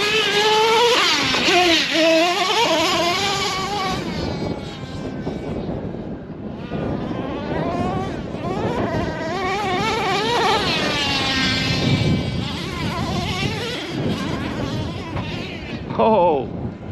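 A small nitro engine in a four-wheel-drive Traxxas FunCo sand rail RC car buzzes and whines loudly while running in sand, revving up and down in waves, close by and continuous.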